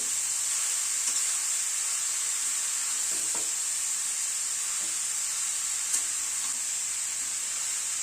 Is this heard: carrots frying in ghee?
yes